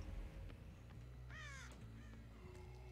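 A crow caws once in Dead by Daylight, a single short call over a low, steady game ambience.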